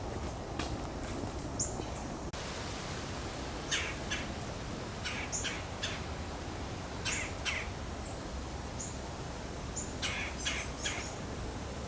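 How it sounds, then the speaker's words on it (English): A woodpecker in a wooded nature park gives sharp, repeated squawking calls in irregular clusters, moderately distant, over a steady outdoor background hiss without any talking. "Did you see that woodpecker?"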